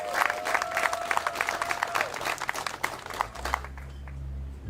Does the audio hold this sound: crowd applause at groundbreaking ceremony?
yes